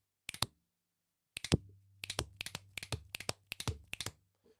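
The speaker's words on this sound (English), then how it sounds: "It's snap, snap, clap." A sequence of sharp finger snaps and hand claps in a snap, snap, clap pattern, close and crisp, repeated several times in quick rhythm with a brief pause after the first hits; a faint low hum runs underneath.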